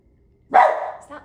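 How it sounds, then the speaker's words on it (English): A single sharp bark from a big dog, close and fairly loud, followed by a brief trailing sound after a moment of near silence. "I think it's your neighbor's dog."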